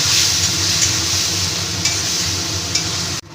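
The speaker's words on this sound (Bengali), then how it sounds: "মশলাটাকে আমি একটু ভালো করে ভেজে নিই" Spice paste fries in a pan for a fish-bone chorchori with Bhetki bones, a steady close, loud sizzle with faint stirring scrapes, cutting off abruptly near the end.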